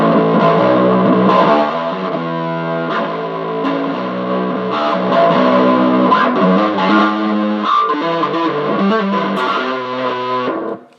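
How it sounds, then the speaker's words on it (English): Bass guitar played through the classic distortion setting of a Boss ME-70 multi-effects unit, voiced like a vintage stack amp: a continuous, loud, gritty overdriven bass line with sustained chords and notes, no talking. "Next up is the classic distortion, which is more of a vintage stack type amp"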